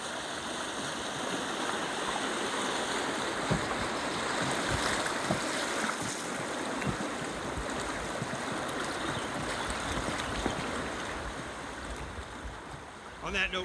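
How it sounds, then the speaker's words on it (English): A riffle on the New River between Pepper's Ferry and Whitethorn, shallow water rushing and burbling steadily around a floating raft, a close, continuous wash with small splashes throughout. "That's the sound of a riffle on the New River between Pepper's Ferry and Whitethorn as a raft floats"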